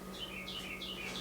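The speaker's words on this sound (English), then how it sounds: "hear a little bird. It's so loud it sounds like it's inside my house." A small bird chirps outside by a porch, repeated bright tweets in a steady rhythm, fairly loud and close over a low background hum.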